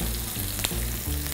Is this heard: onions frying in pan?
yes